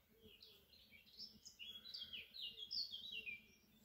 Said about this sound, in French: Les petits oiseaux qui chantent autour.